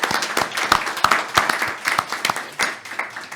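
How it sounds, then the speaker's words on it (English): Conference audience applauding a speaker at an energy security event, a burst of mixed clapping with distinct sharp claps standing out, moderately loud and fairly sparse toward the end. "I ask for you an applause."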